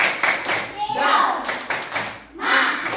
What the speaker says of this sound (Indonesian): Ayo tepuk semangat dulu.